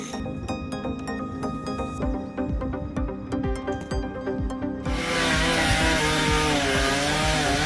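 A Stihl MS-880 chainsaw cuts through tree logs with a loud, continuous engine roar over tonal background sound; the roar grows harsher and brighter partway through as the chain bites deeper.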